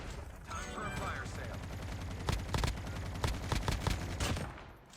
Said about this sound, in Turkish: Adamlarını vurdum.